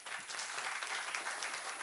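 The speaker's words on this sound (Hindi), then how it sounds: "जोरदार अपने लिए तालियां।" Audience applause at a gathering, a dense steady patter of many hands clapping together, fairly faint and even throughout.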